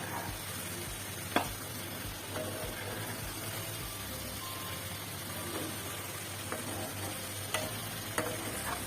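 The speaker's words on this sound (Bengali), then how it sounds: "এখন আলুগুলো দিয়ে দিব, নাড়াচাড়া করে ভালো" Beef liver and potatoes being stirred through spices in a pan, a steady low sizzle with scattered soft scrapes and a few sharp utensil taps over continuous frying hiss.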